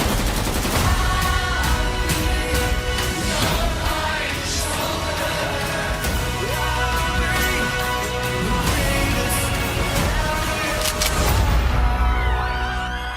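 Heavy gunfire from a shotgun-wedding movie scene rattles in dense, loud bursts of rapid shots over a dramatic music score, continuing almost without pause.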